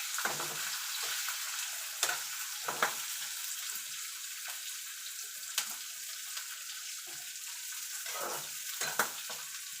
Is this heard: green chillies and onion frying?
yes